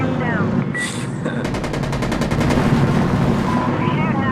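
Rapid automatic gunfire from Insurgency Sandstorm, a sharp burst of evenly spaced shots in the middle, set against steady game battle noise with a brief shout early on.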